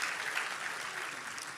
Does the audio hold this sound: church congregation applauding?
yes